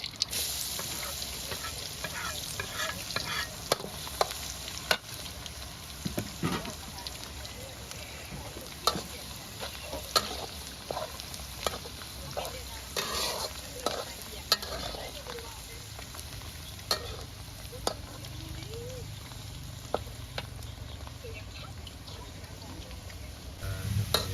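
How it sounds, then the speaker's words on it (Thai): Garlic fries in a pan for rice soup with shrimp, a soft, low sizzle running steadily with scattered small pops and clicks, heard close but quietly throughout. "เจียวเองกระเทียม"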